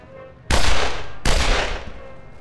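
Two loud, close pistol shots roughly 0.75 s apart ring out in the video game The Ship, each a sharp crack with a long decaying tail, and no one talks over them.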